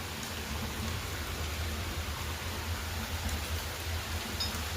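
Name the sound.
rain falling around a village house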